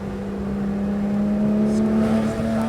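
Porsche GT3 RS engine on a race track, a sustained close engine drone holding a steady tone as it pulls under throttle, loud and continuous.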